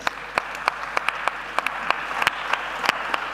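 Sparse, evenly spaced claps, crisp and fairly close, sound for the presenting team of a design thinking challenge on sustainable learning in schools, as though only a few hands are clapping.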